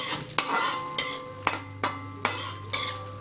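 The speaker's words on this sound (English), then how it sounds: "Once the garlic starts to brown, add in the chopped carrots. Make sure you are doing this on high flame." A spoon scrapes and clanks rhythmically through garlic and chopped carrots stir-frying on a high flame for chicken fried rice, sharp metallic strokes roughly every half second over a continuous sizzle.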